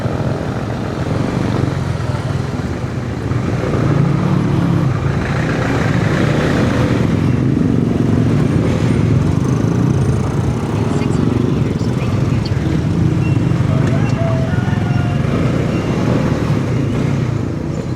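A Honda CB150X motorcycle engine drones steadily while riding on a road trip, with a constant rumble and wind roar throughout.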